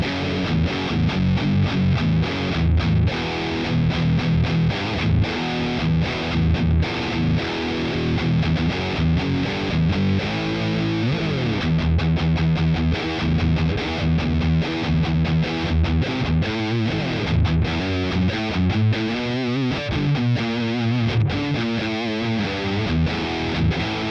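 Haze Les Paul electric guitar played with a heavy distorted tone, thick sustained chords and riffs that ring out loud and continuous, with brief palm-muted and bending passages toward the end.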